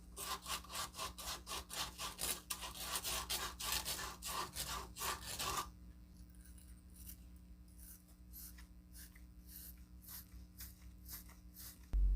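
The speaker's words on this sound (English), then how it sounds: "After that, you want to sand your pipe and wire brush your coupling." Copper pipe sanded and a coupling wire-brushed for soldering: quick rhythmic rasping strokes, loud and close at first, then a quieter run of lighter scrubbing strokes with no talk.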